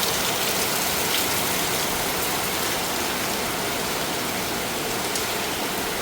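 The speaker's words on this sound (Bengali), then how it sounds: "দেখেন, সকাল সকাল বৃষ্টি শুরু হয়ে গেছে।" Morning rain falls steadily on a rural home, a constant even hiss of drops on surfaces, fairly loud and close, with no voices or other sounds breaking through.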